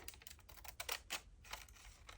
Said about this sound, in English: I might use these scissors and see what we end up with